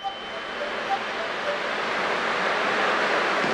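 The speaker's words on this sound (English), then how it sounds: "I can still clearly hear the sound of the waves." Steady ocean surf in the video game Honkai: Star Rail, a broad continuous wash of waves that swells slightly louder toward the end, with faint tonal blips near the start.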